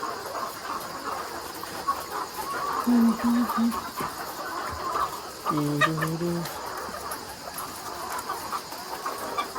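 Ready-to-lay hens cluck in a couple of short bursts over a steady background hum, one cluster near the middle and a louder run a bit later.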